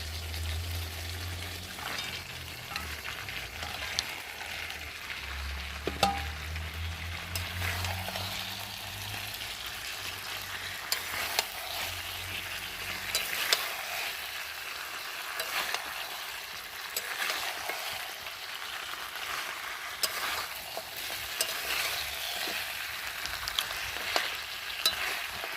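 Fried fish heads are stirred and sautéed with potatoes and spices in a hot pan, giving a steady soft sizzle with scraping spoon strokes and occasional louder clinks, close and continuous, with no talking.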